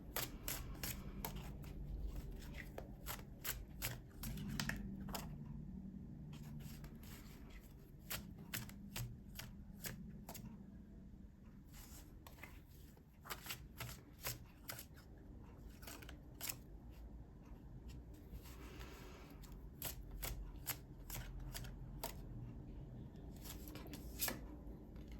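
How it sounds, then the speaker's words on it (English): Tarot cards being shuffled and pulled from the deck, giving repeated crisp riffling and snapping clicks in irregular bursts over a steady low background hum, close and fairly quiet, with no talking. "I'm going to pull one more to go with your advice card"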